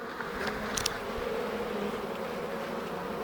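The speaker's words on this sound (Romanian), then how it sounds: "În continuare o grămadă de viespi." Wasps buzz around beehives in an apiary on an autumn day, a steady droning hum with a few louder passes close by.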